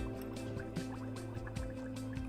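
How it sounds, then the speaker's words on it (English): Carbon dioxide gas bubbling through colourless lime water in a lab test, a steady low burble of bubbles with soft drips over a constant hum. "I bubble the carbon dioxide gas through the colourless lime water"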